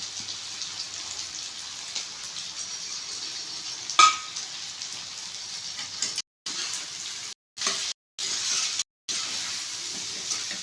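Potatoes frying in oil with crushed pepper, cumin, fennel and garlic give a steady close sizzle and hiss, with one sharp pop midway and a few brief drops to silence near the end.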